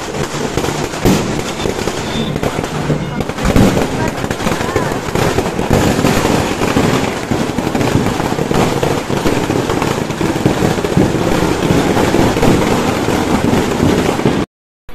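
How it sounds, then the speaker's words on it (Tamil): Firecrackers burst continuously at a Tamil street flag-hoisting festival for St. Anthony's church, a dense, loud crackling barrage lasting well over ten seconds with voices mixed underneath before it cuts off abruptly. "கொடி ஏற்றி முடியும் அவ்வளோ வெடி போட்டாங்க"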